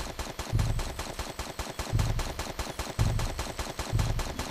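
Rapid gunfire from a weapon in the video game Tomb Raider 3, a steady stream of loud, close shots in bursts with heavier thumps recurring about once a second.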